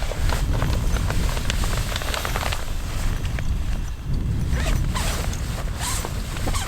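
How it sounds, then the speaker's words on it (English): A wearable tent's zipper is pulled open in a series of short rasping strokes, close by, over a constant rumble of wind. "and then undo the zip."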